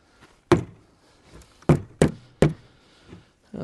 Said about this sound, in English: What I'm gonna do on this one is knock the top off